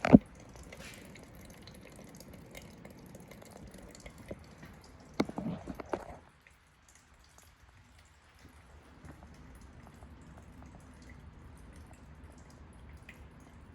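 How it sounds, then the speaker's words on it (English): Gasoline drains from the fuel line of a Janus 250 scooter into a catch container with a faint trickle and dripping, a short louder burst of splashing, then quieter dribbles. "You should hear the fuel start pouring out into your catch."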